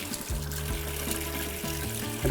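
Tap water running from a newly installed well water system, a continuous trickling, splashing stream that flows steadily and close by with no talk over it.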